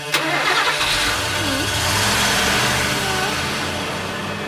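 A van engine starts up in a busy outdoor scene and settles into a steady mid-pitched idle, loud and close, with a brief sharp click at the start and a continuous rumble underneath.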